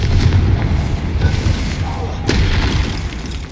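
A Confringo fire spell blasts in the video game Hogwarts Legacy as a loud, dense booming roar, with a sharper burst about two-thirds of the way through.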